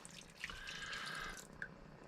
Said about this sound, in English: I'm just going to add some water to that as well.